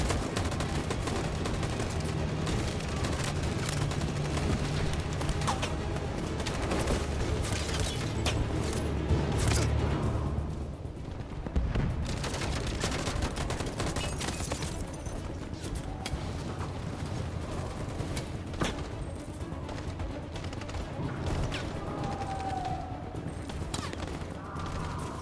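Sustained gunfire in the video game Detroit: Become Human rattles in dense, continuous bursts, layered with clatter and combat noise throughout, briefly easing midway before resuming.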